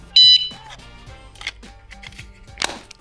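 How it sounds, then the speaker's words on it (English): Old Vanguard vehicle alarm gives one short, loud electronic beep near the start, followed by quieter scattered clicks and handling knocks in a quiet space. "Vinny will undertake the mission of installing his old Vanguardian alarm."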